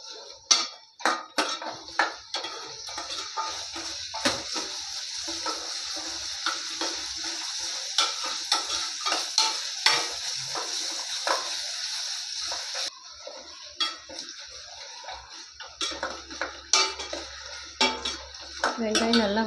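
Whole small onions sauté in a pan for arachuvitta sambar, a steady sizzle under frequent clanks and scrapes of a spoon against the metal pan, close by, with brief talk near the end.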